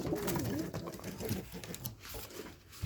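Racing pigeons coo and flutter nearby while someone talks over them, the soft birdsong mixed with rustling and background noise.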